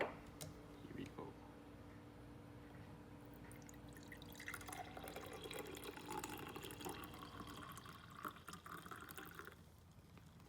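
Cold brew sencha tea is poured into a vessel, a soft continuous trickle of liquid with faint dripping, close and quiet over low room noise, with a voice heard briefly.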